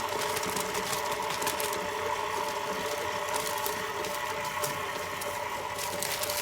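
An electric mixer runs steadily while mixing cookie dough in a bowl, a continuous even whir with a faint rattle, close and alone with no voices.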